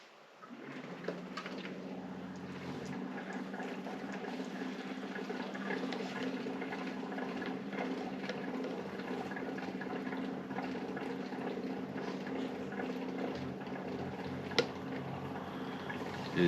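An ITEHIL portable water filter runs its flushing cycle, giving a steady low hum with a continuous watery rushing over it. It stays fairly quiet and even, with one brief click near the end.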